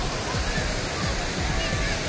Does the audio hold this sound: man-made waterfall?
yes